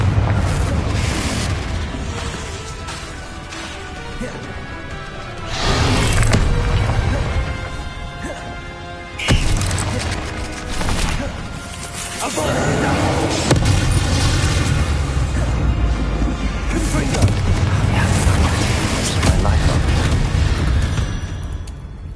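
Heavy booming blasts from Confringo spells in the video game Hogwarts Legacy, several loud explosive surges with rumbling tails, one sharp hit near the middle, over a dense game soundscape.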